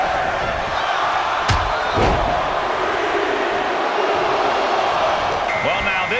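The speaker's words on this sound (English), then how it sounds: "Listen to this crowd count the next one in." Arena crowd in a WWE 2K24 Royal Rumble video game match, a steady roar of many voices chanting a countdown together, loud and continuous, with a couple of sharp impact thuds from the ring.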